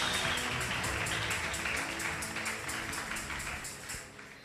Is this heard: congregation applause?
yes